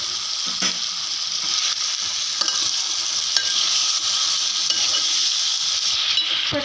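Marinated chicken hits hot oil with ginger garlic paste for a gongura chicken curry, a loud continuous sizzle with a few clinks and stirring scrapes of a spoon against the pan, no voices.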